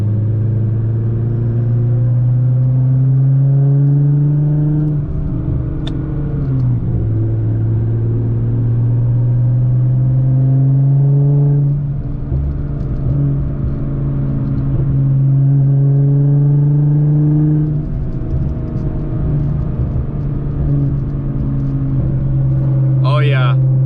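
A Nissan GT-R's engine idles with a loud, steady rumble, then revs in a few long swells that rise and fall, heard close up.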